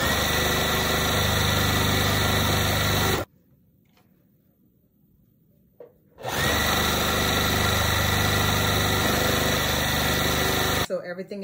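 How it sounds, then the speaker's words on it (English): Sewing machine stitching a side seam onto a quilt block, running loud and steady in two long bursts with a short quiet pause between them. "And then I'm gonna sew this side on from here to here."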